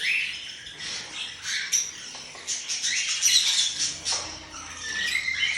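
Pet cockatiels and budgerigars eating chickpeas squawk and chirp in shrill, overlapping bursts, nearby and continuous, with scratchy rustling between calls.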